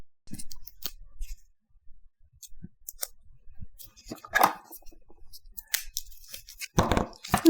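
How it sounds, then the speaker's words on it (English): Scissors cut long strips of foam adhesive for mounting a Christmas card front, giving sparse, crisp snips and small papery crinkles spaced irregularly at close range, fairly quiet, with no voices. "I'm just going to cut several strips of long foam adhesive"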